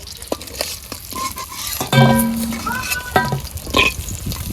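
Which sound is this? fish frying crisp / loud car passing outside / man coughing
fish frying crisp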